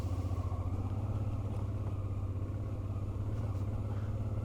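A Honda TransAlp motorcycle engine rumbles steadily in second gear at about 30 km/h on a dirt road, a constant throbbing drone with no talking.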